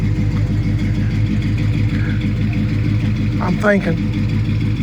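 A 1984 Chevrolet C10 Silverado truck idling after a cold start, a steady loud low engine rumble throughout, with someone talking briefly over it.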